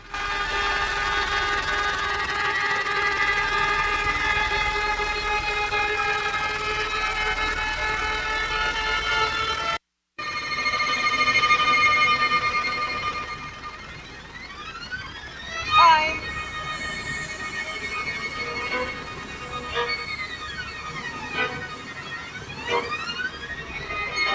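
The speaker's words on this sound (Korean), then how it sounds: "그래서 이 기괴한 헬리콥터 현악 사중주 조금만 들어보실게요." A string quartet plays sustained, gliding tones over droning helicopter engine rumble; after a short break, sliding string glissandos continue against the mechanical noise.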